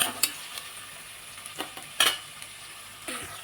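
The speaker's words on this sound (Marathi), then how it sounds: "त्याच्यामध्ये टाकला मी कांदा कांदा पण दोन मी मस्त परतून घेते" Onion and capsicum frying in a pan for a veg soybean biryani masala, with soft sizzling under a few sharp scrapes and clinks of a spoon stirring against the pan, close and moderately loud with no talking.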